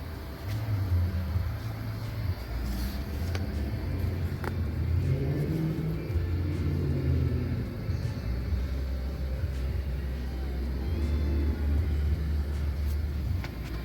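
A customer's unsafe car on a test drive hums and rumbles steadily from the cabin, engine droning with gentle rises in revs over road noise, no talking.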